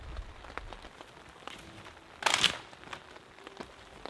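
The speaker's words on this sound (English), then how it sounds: "There's water literally dripping from everything at the moment." Rain dripping in a soaking wet forest after weeks of solid rain, scattered soft drips and patters with a brief louder crinkling splash midway, all faint and close.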